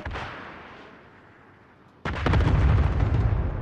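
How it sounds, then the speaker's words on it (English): A cluster strike in a first-person shooter game hits after a fading blast, then erupts into a loud, dense rattle of many rapid overlapping explosions that rumble on without pause. "Allied cluster strike in."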